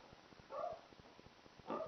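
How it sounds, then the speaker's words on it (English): A dog barks twice in the distance, two faint, short bursts about a second apart, set against a low, muffled outdoor background. "There's a dog now going off on something."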